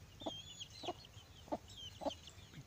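A mother hen in a pen with her chicks gives four soft, evenly spaced clucks, while faint high chick peeps run underneath throughout.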